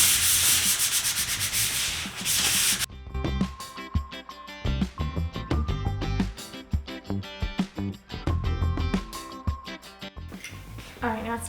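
Fine abrasive paper is rubbed across the surface of a wooden desk during restoration, a steady close scraping with repeated strokes over a background tonal layer.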